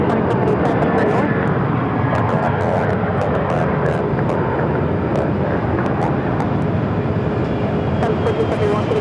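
An airliner takes off from runway 7 left at Phoenix Sky Harbor airport, a steady broad engine roar holding level throughout while air traffic control radio talk runs over it.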